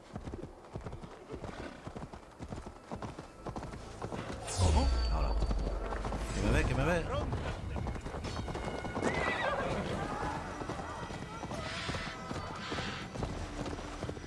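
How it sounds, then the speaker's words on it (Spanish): A horse gallops in the video game Assassin's Creed Valhalla, steady clip-clop hoofbeats with a loud whinny partway through, while someone talks excitedly over it. "Vamos, galopa más, caballo estamos en el interior."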